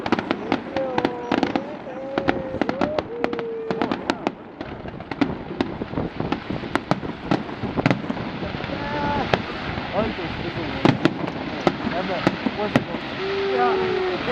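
Canada Day fireworks outdoors, including screamers: rapid sharp cracks and pops scattered throughout, with whistling screamer tones rising and falling, and crowd voices talking underneath.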